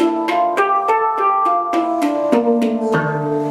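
A hang drum, or handpan, tuned to a minor scale, struck in a quick run of about eleven ringing metallic notes that overlap and sustain, close and clear with no voices.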